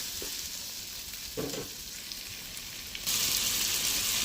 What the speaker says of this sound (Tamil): தக்காளி சேர்த்து கலந்து விட்டுக்கலாம்.